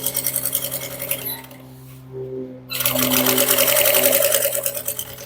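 Sewing machine running a straight seam on a bag project at stitch length 3.5, a steady mechanical whir in two bursts separated by a short pause, close and fairly loud with no talking.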